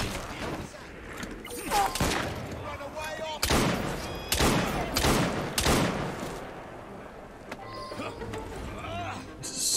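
Gunfire in the video game Assassin's Creed Syndicate: loud sharp shots in an irregular burst of about six blasts with rumbling tails, amid game ambience and horse clip-clop, with a person talking over it.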